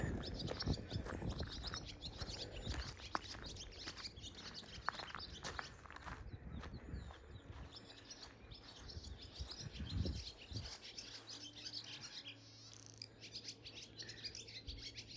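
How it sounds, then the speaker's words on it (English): Birds chirp and tweet steadily throughout at the Fort Stevens historic military site, with scattered calls over a rustling background and occasional footsteps nearby. "those birds are chirpity chirpity"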